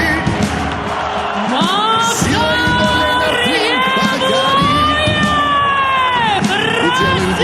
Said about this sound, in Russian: в этот вечер болельщики как никогда яро поддерживали своего любимца